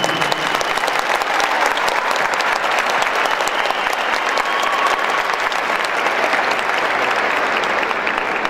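Audience at a Quito concert hall applauding a singer, dense sustained clapping from a large crowd that stays loud and even throughout, with no break.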